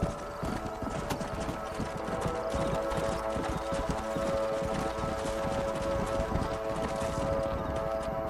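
Horses in Red Dead Redemption clip-clop in a busy, irregular patter of hooves with a brief whinny, moderately close, over a faint low rumble and no speech.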